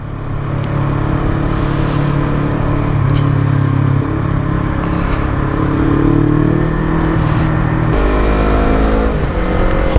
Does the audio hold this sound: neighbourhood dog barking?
no